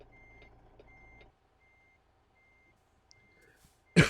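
A truck in American Truck Simulator gives steady, evenly spaced reversing beeps, fairly faint against a low engine hum that drops away, followed by a sudden loud burst at the end.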